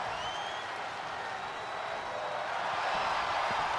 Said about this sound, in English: Penta getting this crowd here in Tampa on their feet, getting them on their feet for a banger.